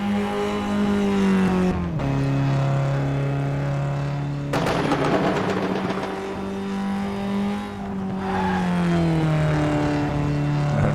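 A race car engine screams at high revs around Laguna Seca, its pitch climbing, dropping on shifts and lifting again, with a sharp burst of harsh noise midway as the car slides.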